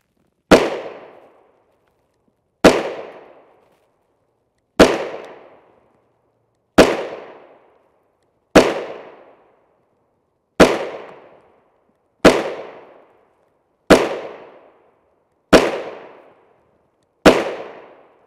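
A Glock 19 Gen 4 MOS pistol with an Apex flat-face trigger fires 9x19mm 115gr FMJ GECO rounds, ten sharp, loud shots spaced about two seconds apart, each followed by a short decaying echo.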